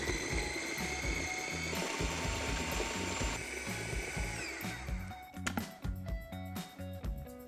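An electric blender whirs through ricotta, olive oil, parmesan, salt and pepper, a loud steady mechanical drone that changes pitch partway through before turning choppy and uneven near the end.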